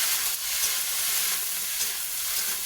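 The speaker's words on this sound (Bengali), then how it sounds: "এবার আমি আর লাউ খাড়াগুলো সব তুলে দেবো।" Bottle gourd greens fry in a pan with a dense, continuous hiss of sizzling oil, loud and close throughout with no voices.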